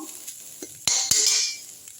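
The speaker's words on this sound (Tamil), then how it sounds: "நல்லா வறுத்து விட்டுங்க" A spoon stirs ingredients being roasted in a metal pan for coconut rice. Two sharp clinks of the utensil against the pan are followed by a brief soft sizzle, close and with no talking.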